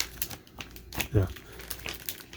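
A plastic comic bag crinkles in bursts of crackling handling noise, with one louder rustle, while a person speaks over it.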